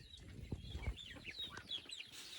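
Pet chickens cluck softly nearby, a scatter of short rising clucks and chirpy calls at low volume, with faint shuffling and background noise.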